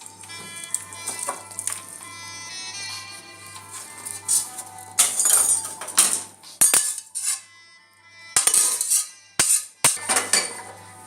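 Cooked palak, potato and paneer contents being tipped and scraped from a pressure cooker into a big bowl, with intermittent metallic clinks and rattles of utensil against the pot, separated by short quiet gaps.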